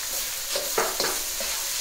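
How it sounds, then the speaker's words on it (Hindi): Spices are stirred into aloo gobi in a pan, with a soft sizzle underneath and a few scraping strokes of a spoon against the pan, close and brief, without talk. "तो मिक्स करते हम इसके"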